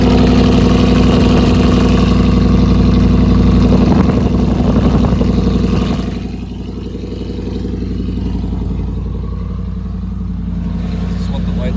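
A truck engine with a newly fitted loud resonator exhaust idles steadily and close, a deep rumble that stays constant throughout, rising slightly in the first half before settling lower.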